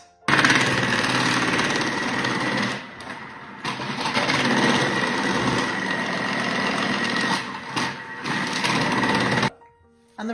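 A Thermomix slicing attachment cuts sweet potato with a loud, close, steady motor whirr. The whirr runs in long stretches with brief dips and stops near the end.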